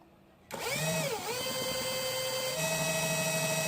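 A small electric generator for a 12V lamp starts up with a sudden whining hum, its pitch dipping briefly before steadying into a continuous mechanical drone that lifts slightly as its speed is raised.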